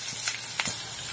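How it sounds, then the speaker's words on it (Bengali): Green peas fry in oil on high heat, a dense steady sizzle with small crackling pops close by. "দেখুন মটরটি আমার ভাজা হয়ে গেছে"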